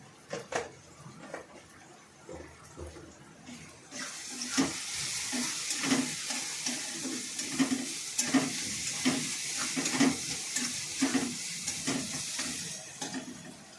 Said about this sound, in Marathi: लाल तिखट टाकल्यानंतर जरा हलवून घ्यायचं मस्त।